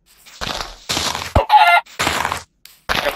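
Minecraft chicken clucks and squawks, several short bursts in quick succession with a brief higher-pitched cackle in the middle.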